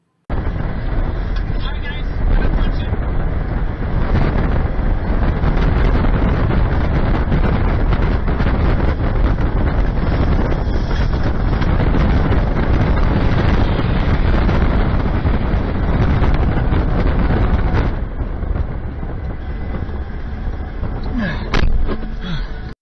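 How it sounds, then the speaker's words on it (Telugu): A tornado's winds roar loud and continuously for over twenty seconds, a dense buffeting rumble that batters the microphone, easing slightly near the end, with people talking beneath it. "ఇప్పటి వరకు కెమెరాలో రికార్డ్ అయిన భయంకరమైన సుడిగాలితో పోలిస్తే ఇది అతి భయంకరమైన సుడిగాలి."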